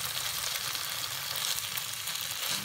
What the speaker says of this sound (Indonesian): Lalu kita masukkan baksonya, telur 1 diorak-arik ya